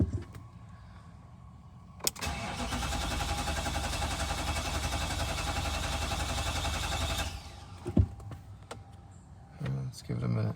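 An Infiniti QX56 cranks after a fuel pump replacement, giving a steady, continuous starter whir for about five seconds that then stops, followed by a few clicks and faint knocks nearby.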